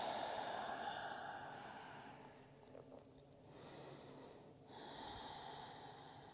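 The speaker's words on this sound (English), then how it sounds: "And I'm breathing." Slow, steady breathing in a yoga eagle pose, long audible inhales and exhales close to the microphone with no talking.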